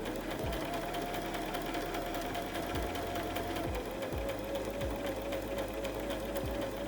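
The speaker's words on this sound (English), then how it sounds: "We fold the fabric and sew it." A sewing machine runs steadily, stitching folded silk tie fabric for a headband, with a continuous motor hum and regular mechanical clicks, close and alone.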